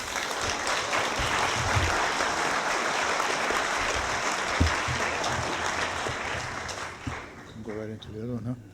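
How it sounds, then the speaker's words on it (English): An audience at a conference plenary session applauding, a sustained dense clapping that fades near the end as a voice begins speaking over it. "Let's give them a round of applause."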